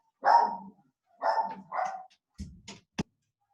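A female dog barks several times in a row, fairly close and loud, a few sharp barks with short pauses, followed by a couple of quick thuds, with no talking.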